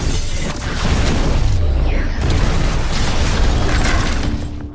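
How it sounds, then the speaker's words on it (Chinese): Flour dust explosion in a film bakery, a loud sustained roaring blast with crackling rumble and a brief whooshing burst partway through, filling the whole stretch with no speech. "因为粉尘爆炸，整个屋子顿时红光冲天"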